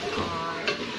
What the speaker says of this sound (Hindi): ऐसे भूनते रहेंगे